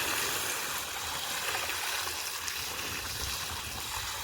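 Water poured into a cooking pot outdoors for a country chicken egg curry, a continuous soft splashing gush under steady windy rumble, with no voices.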